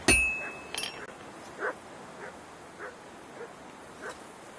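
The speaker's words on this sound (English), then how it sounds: "Dog's going fucking ape shit" Dog barking in the video game Kingdom Come Deliverance 2: a series of short, moderately distant barks and yelps, spaced about half a second to a second apart, over steady low game ambience with a faint metallic clink at the start.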